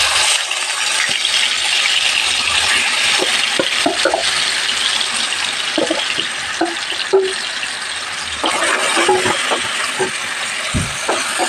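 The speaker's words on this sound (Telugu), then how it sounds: "ఆయిల్ వేడైన తర్వాత ఉల్లిపాయ పేస్ట్ వేస్తున్నాను." Onion paste for egg curry going into hot oil in a kadai, a steady close sizzle and crackle broken by scattered clicks and stirring knocks.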